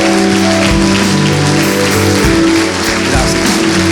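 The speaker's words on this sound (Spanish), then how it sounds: "Le damos un fuerte aplauso al Señor." Congregation applause in a church service, a dense continuous wash of clapping filling the room with steady loudness, over a low sustained organ or keyboard hum.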